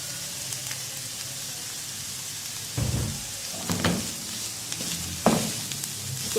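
Chicken is added to vegetables already frying in a pan, and the soft, steady sizzle swells into louder hissing bursts as the pieces drop in and are stirred around.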